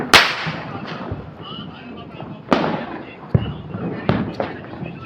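Diwali firecrackers burst outdoors: four sharp, loud cracks spaced a second or two apart, each trailing into a brief crackle, with faint voices in the background between blasts.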